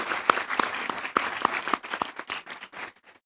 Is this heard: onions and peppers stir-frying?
no